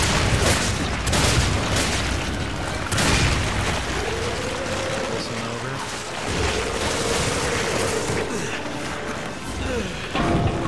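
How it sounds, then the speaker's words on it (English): Grenades explode in Resident Evil 5 gameplay, with repeated heavy booms and blasts layered over dense, continuous combat noise, and a few short vocal sounds come through. "I'll get out my grenades."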